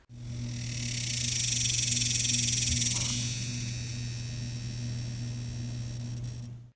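A loud, continuous dog day cicada buzz, high and droning, swelling then slowly easing off, with a steady low hum underneath.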